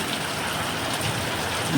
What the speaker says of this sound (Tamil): இன்றைக்கும் நல்லா மழையாக இருக்குது